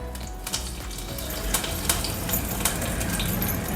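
Hot coconut oil tempering with cumin and curry leaves sizzles as it is poured over Kerala-style avial, a coconut-based vegetable curry. A steady, close frying hiss runs throughout with small crackling pops and no talking.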